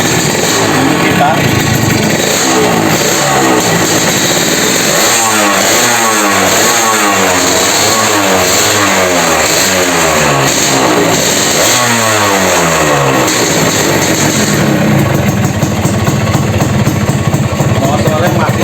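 A two-stroke Suzuki Satria motorcycle engine is revved repeatedly in sharp rising and falling bursts, loud and close. It settles toward a steadier idle near the end, with people talking around it.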